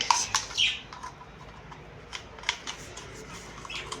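Sharp, high lovebird squawks burst out in a quick cluster at the start, then a few scattered chirps follow against a quiet room background.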